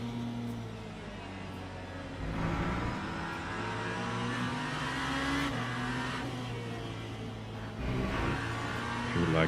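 Race car engine in the Le Mans Ultimate sim at Laguna Seca, a steady loud drone with rising revs and gear changes throughout, held near and continuous with no talk.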